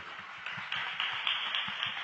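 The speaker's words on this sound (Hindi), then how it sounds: "ताली बजाओ एक बार सब प्रभु के लिए।" A church audience claps for Jesus Christ at a Hindi Christian worship service, a dense burst of many hands over about two seconds that grows slightly louder, with no talking.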